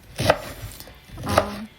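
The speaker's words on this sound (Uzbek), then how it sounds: "Karomni maydaroq qilib to'g'radim." Two crisp knife chops through cabbage being cut finely on a board, close and distinct with a short pause between them.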